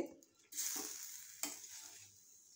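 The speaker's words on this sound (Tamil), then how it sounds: "இந்த 3ஐயும் போட்டு நல்லா கிளறிடணும்" A mix of brinjal, potato and plantain for kootu is stirred in a pan, giving soft scraping strokes over a gentle hiss of sizzling, fairly quiet with no talk.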